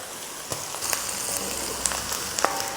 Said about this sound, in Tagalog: Inuuna ko lang munang igisa itong sibuyas para mas ma-emphasize yung lasa nito